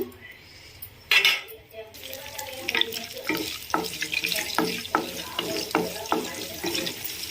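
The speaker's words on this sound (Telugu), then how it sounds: "ఇప్పుడు ఇందులోకి మనం పోపులోకి పచ్చెనగపప్పు, కరివేపాకు, అలానే ఆవాలు, జీలకర్ర, ఎండుమిర్చి ఇవన్నీ కూడా వేసి మంచిగా పోపు చేసుకుందాము" Chana dal, curry leaves, mustard seeds, cumin and dried red chillies fry in hot oil for a tempering, with a soft sizzle under repeated clinks and scrapes of a metal spoon stirring in the pan.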